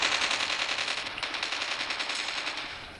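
Rapid automatic gunfire from Call of Duty multiplayer, a fast continuous burst of shots with a sharp crack near the middle, loud and alone with no talk.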